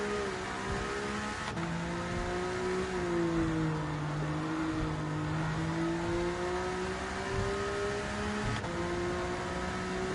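Car engine in a racing video game, revving up and down in smooth rising and falling sweeps, a steady synthetic drone that holds through the whole stretch with no talk.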